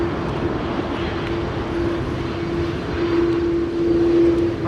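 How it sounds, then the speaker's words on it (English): A United Airlines Boeing 787-9 Dreamliner jet on approach in stormy, windy weather, heard as a steady close engine roar with a sustained whine that swells slightly toward the end, no voices present. "Flight 71 to Newark, 7879 Dreamliner is also coming this way."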